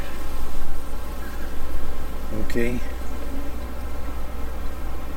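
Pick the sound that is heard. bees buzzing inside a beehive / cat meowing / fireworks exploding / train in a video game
bees buzzing inside a beehive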